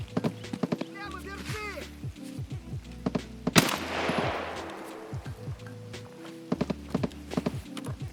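An unsuppressed gun in Escape from Tarkov fires a few loud, sharp shots that ring out amid game noise and thudding footsteps, with a voice talking briefly.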